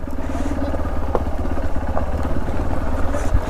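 A KTM Duke motorcycle engine drones loud and close while riding an off-road stretch, a steady throbbing rumble with occasional clatter, no talk.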